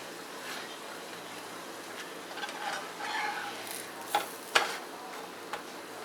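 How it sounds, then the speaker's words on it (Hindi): A smash burger patty cooks on a low flame with a faint, steady sizzling hiss and a few soft clicks and scrapes near the end. "हल्के हल्के ना लो फ्लेम पर इसे कुक कीजिएगा, हल्के आंच पे, ताकि अंदर तक अच्छी तरह से कुक हो जाए"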